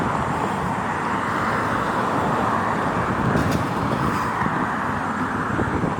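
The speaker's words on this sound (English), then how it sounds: "Listen to the noise around me and how all the cars in the right lane" Steady roar of car traffic passing on a busy street beside a pedestrian, continuous broadband road noise with no pauses, fairly close and loud.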